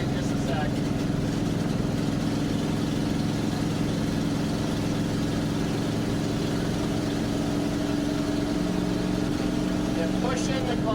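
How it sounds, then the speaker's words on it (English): A 1964 Dodge D300 truck climbs a hill in third gear, its engine a loud, steady low drone heard from inside the cab with someone talking over it. "So we're running up the hill, heading out of town. I'm in third gear right now."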